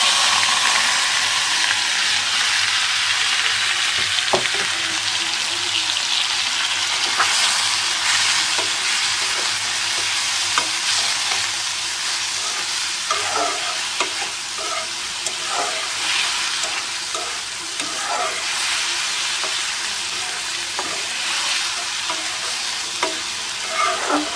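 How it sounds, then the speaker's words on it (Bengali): Onion and chili frying in hot oil after eggs are removed, a loud, steady hissing sizzle that carries on for the whole stretch, with occasional soft clicks and stirring scrapes, close up and without talking. "ডিম তোলা শেষে তেলের ভিতরে পেঁয়াজ মরিচ দিয়ে দিব।"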